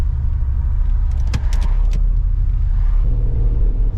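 An LS1 V8 in a VN Commodore roars steadily at high revs on the limiter, a loud, dense, continuous engine drone that holds throughout with a few brief sharp clicks.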